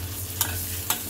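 Eggs fry in oil in a pan, a low steady sizzle with two sharp utensil clicks against the pan, close and without talk.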